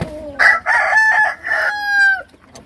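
Broodcock roosters on a farm give a loud, close crow with a long drawn-out final note, with clucking mixed in around it.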